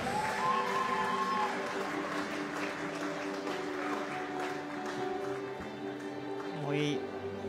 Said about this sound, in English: Ladies and gentlemen, a round of applause for your medal winner.